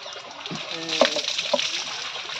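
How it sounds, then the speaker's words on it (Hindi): People bathing outdoors in the monsoon, splashing in fresh rainwater, with irregular near splashes and dribbling water and a few sharp slaps, voices murmuring faintly underneath. "भैया आज हम लोग नहा रहे हैं बहुत ही शुद्ध पानी"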